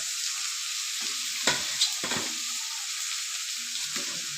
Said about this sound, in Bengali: দেখো আমি সকালের টিফিন আলু পেঁয়াজ দিয়ে ভাজা হচ্ছে।